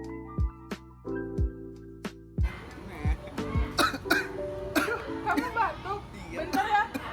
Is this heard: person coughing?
yes